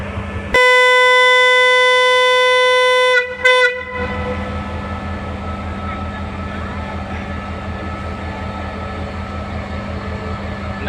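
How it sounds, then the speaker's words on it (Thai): Thai passenger train 921, hauled by an SY-class locomotive, blasts a long, loud, steady horn, then breaks off with a couple of short toots before the engine rumbles and clatters as it pulls away. "ทำขบวนที่ 921 ไปเขื่อนป่าสักนะครับ"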